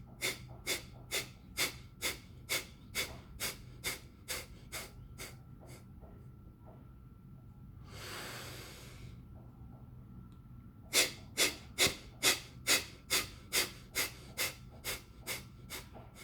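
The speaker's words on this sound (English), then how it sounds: "So forceful exhalation, then inhale deeply, then exhale step by step." Pranayama breathing: a steady series of sharp, forceful nasal exhalations in even rhythm, a long deep inhalation in the middle, then another run of quick forceful puffs, close and alone.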